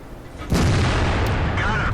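A tank cannon fires a single loud boom at an enemy tank in World of Tanks, a sharp blast at mid-clip that trails into a sustained rumbling roar with faint game effects.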